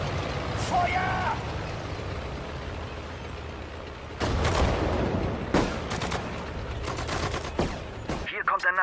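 Rifle and machine-gun fire from soldiers in the wartime strategy game Sudden Strike 4, sharp bursts and single cracks scattered over a rumbling battlefield background, with brief voiced unit callouts mixed in.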